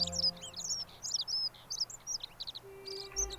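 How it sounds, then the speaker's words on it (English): Loud, repeated bird chirps and tweets ring out in the video game The Forgotten City, arriving in short rapid bursts high in pitch, with a low ambient hum underneath. "That bird is, like, hilariously loud"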